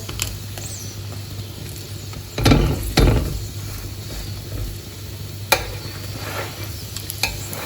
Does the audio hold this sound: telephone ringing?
no